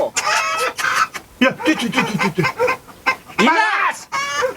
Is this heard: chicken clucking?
yes